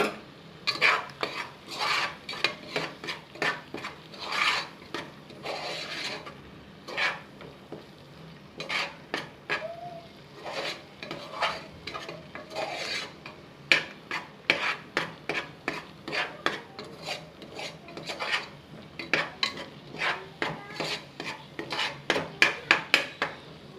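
Mutton gravy with spices stirred in a metal pan, a long run of rhythmic spoon scrapes and clanks against the pan over a faint sizzle, close and steady, with no talking.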